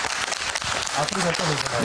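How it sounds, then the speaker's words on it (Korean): Studio audience applause on a KBS television health talk show, loud clapping filling the short clip while a host speaks briefly over it. "큰 박수 좀 부탁드립니다."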